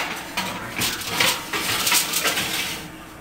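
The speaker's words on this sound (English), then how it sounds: "I'm putting it in my oven in a center rack covered with foil" A foil-covered dish of stuffed peppers slides onto the center rack of an oven, giving a run of close metallic clinks and scrapes from the rack and pan.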